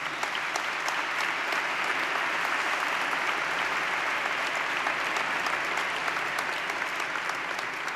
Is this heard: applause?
yes